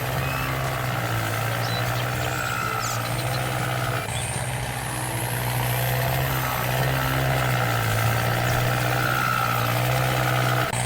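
A Kubota M7060 tractor engine in Farming Simulator 19 drones steadily with a low, even hum and faint higher whines, continuous and unbroken throughout with no talking.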